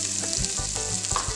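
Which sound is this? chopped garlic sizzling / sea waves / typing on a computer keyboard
chopped garlic sizzling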